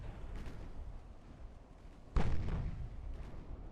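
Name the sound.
shell hits on warships, Ultimate Admiral Dreadnoughts video game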